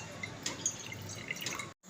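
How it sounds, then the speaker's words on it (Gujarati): Water poured into a pot for boiling corn kernels on a gas stove, a close steady splashing trickle with small drips, cutting off abruptly at the end. "થોડું પાણી નાખશું"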